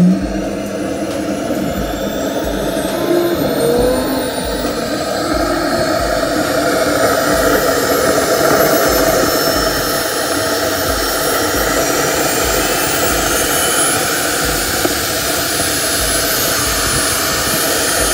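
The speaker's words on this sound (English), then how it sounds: "It's making like a jet noise." A jet turbine engine fitted in an electric car runs at a track day, giving a loud, steady, close turbine roar with a rising high whine over a deep rumble.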